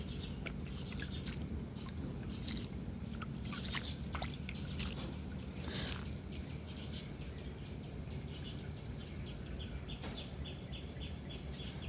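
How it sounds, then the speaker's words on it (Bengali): Water gently given to newly planted flower seedlings in a rooftop garden, heard as a steady soft dripping and trickling with birds chirping and calling throughout and no talking. "হালকা একটু পানি দিয়ে নিব।"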